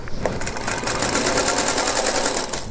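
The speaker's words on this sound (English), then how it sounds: "now I'm just going to stitch a 1/4 inch seam on it" A sewing machine runs a quarter-inch quilt seam in one fast, steady burst of rapid needle clatter, loud and close with no talking.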